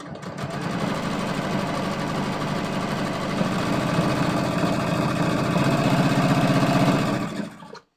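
A sewing machine stitches through six layers of denim in a fast, continuous mechanical rattle close by, running steadily before stopping abruptly at the end.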